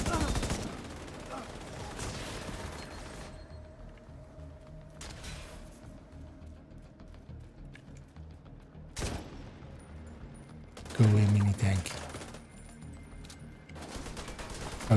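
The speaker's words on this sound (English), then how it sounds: "we're all shooting" Rapid squad gunfire in The Division 2, bursts of automatic shots loud and close, with quieter stretches of scattered fire and a heavy volley near the end.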